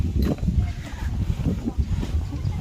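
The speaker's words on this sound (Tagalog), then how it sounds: "Mahangin. Sarap. Ang hangin ng presko." Gusty wind buffeting the microphone in Cambodia, a constant low rumble and roar that rises and falls throughout.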